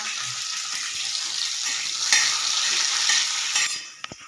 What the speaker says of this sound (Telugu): వేగనివ్వాలండి బాగా